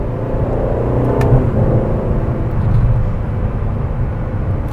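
A 2024 Aston Martin DB12 engine heard from inside the cabin while downshifting, a loud low droning rumble that swells briefly as revs rise, steady and close, without speech over it.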